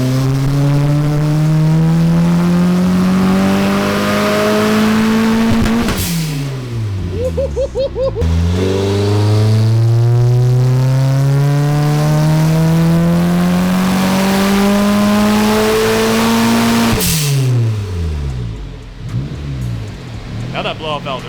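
Turbocharged 1ZZ-engined Toyota MR2 on a dyno at 11 pounds of boost, revving loudly through two long pulls with rising engine pitch, each ending in a sharp blow-off valve whoosh and a sputtering drop in revs, with voices faintly under the noise.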